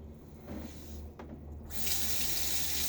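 A bathroom tap runs into the sink while a razor is rinsed after a shave, a soft steady stream that swells louder and brighter partway through as the flow increases.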